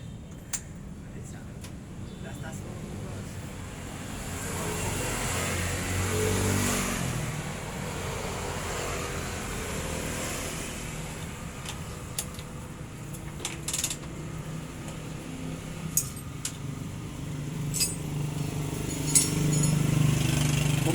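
A vehicle engine running just after a top overhaul, a steady low rumble with a brief swell in revs, close by, with scattered metallic clicks and taps over it.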